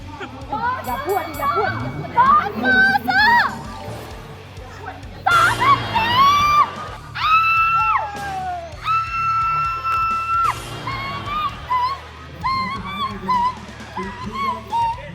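A cheering squad of fans yells and whoops at a casual football match with a boxer, loud excited shouts and cries coming in bursts from a nearby crowd, with talk mixed in.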